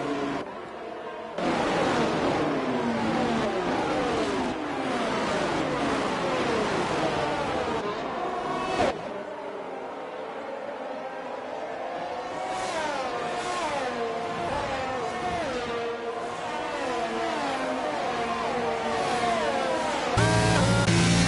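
A Red Bull Formula 1 car in the F1 22 racing game at Hungary, its engine screaming and revving continuously for the whole stretch with rising and falling pitch sweeps as it shifts through gears, loud and up close, with no talk over it.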